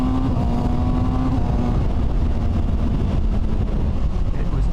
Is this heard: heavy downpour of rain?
no